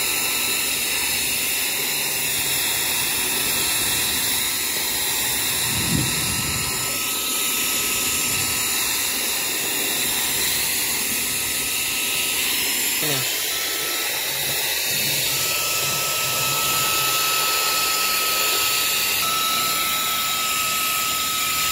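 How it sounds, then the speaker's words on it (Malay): A portable vacuum cleaner runs continuously, a steady, loud broadband whine and hiss of its small motor, with faint talk in the background. "Kita akan gunakan vacuum ni."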